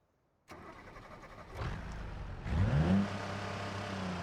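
A car engine in the BeamNG driving game cranks and starts, settles into a steady idle, then gets a quick rev that rises and falls before dropping back to a loud, even idle with no voices.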